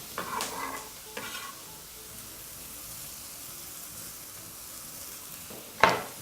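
Onions fry in a pan under a soft steady sizzle, with a couple of spoon scrapes early on and a loud clatter of the spoon against the pan near the end, close by and without speech.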